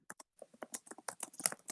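Rapid keyboard typing, a quick run of faint, close clicks and taps with no voices.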